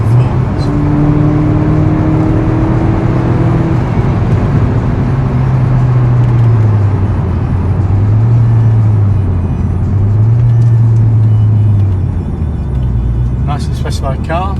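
A 2011 Mini John Cooper Works with a turbocharged engine and sports exhaust, loud and steady as it pulls through the gears, the engine note rising and falling with each shift over a constant road rumble.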